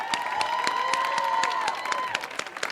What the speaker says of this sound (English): Start clapping right now to the next poet coming up to the stage